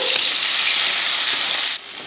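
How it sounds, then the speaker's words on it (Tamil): Chopped tomatoes fry in hot oil in a pan with a steady, loud sizzling hiss that eases slightly near the end. "தக்காளி வந்து தனியாக வதக்குறேன்"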